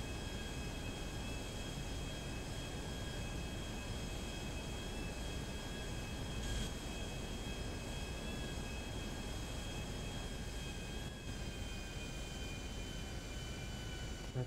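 An airplane coming in to land in GTA V on FiveM, a steady, fairly faint engine drone with a whining tonal hum that holds throughout without a break.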